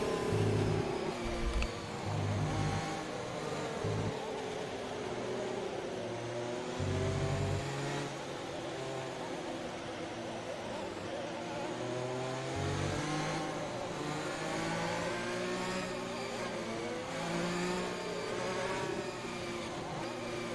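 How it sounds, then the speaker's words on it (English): A video game race car engine running with a fault buzzes and revs unevenly, its pitch wavering and sputtering roughly over a steady mechanical drone, with no talking. "engine sounds as though it's got a slight problem. Sounds like a rally car at the moment."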